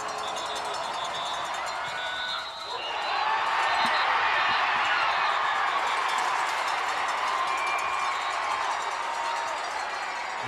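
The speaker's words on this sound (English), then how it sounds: "The crowd is cheering" A crowd at a high school football game between Eisenhower and Anchor Bay sends up a steady, broad roar that swells louder after a brief dip, sustained cheering filling the stadium during a field goal attempt.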